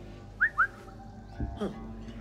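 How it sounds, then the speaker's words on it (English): A character whistles to distract enemies in Assassin's Creed Mirage: two short, sharp rising whistle notes in quick succession, clear and close, followed by a brief muffled thud and a low voice. "When hidden, distract them by using a whistle"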